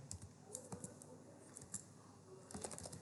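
Keys clatter on a computer keyboard in short irregular bursts as text is entered into an HTML ordered list, close and fairly quiet, with no talking.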